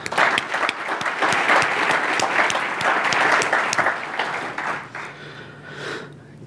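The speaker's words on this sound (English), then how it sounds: "So a big round of applause for Mark." A conference audience breaks into full applause for a speaker, steady and fairly loud for about five seconds before tapering off to a few scattered claps.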